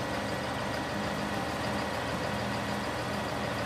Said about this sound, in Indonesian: harus dibersihkan menggunakan traktor dan truk-truk pengangkat salju agar bisa dilalui mobil-mobil